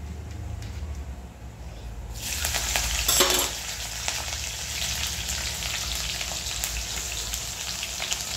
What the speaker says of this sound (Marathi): थोडं आपल्याला टाकायचं आहे जिरे